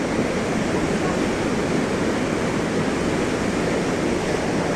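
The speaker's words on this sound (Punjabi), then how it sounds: "ਤੇ ਇਹ ਹੈ ਵਾਹਿਗੁਰੂ ਜੀ ਪਾਰਵਤੀ ਨਦੀ" The Parvati river flows through the mountains near Manikaran as a loud, unbroken roar of rushing water with no pauses.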